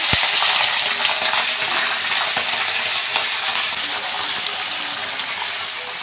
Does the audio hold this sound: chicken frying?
yes